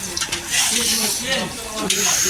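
Food stirred in a cooking pot at an outdoor picnic, a continuous sizzling hiss with scraping, heard beneath people chatting nearby.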